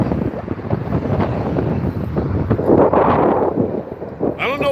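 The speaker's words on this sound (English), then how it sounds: "I don't know why it got all windy all of a sudden" Gusty wind buffets an outdoor microphone in loud, rumbling bursts that swell and fade for several seconds, with a brief voice at the very end.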